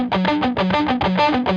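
Heavily distorted electric guitar playing an octave part, a fast, galloping repeated riff through an effects unit, loud and close with no talking.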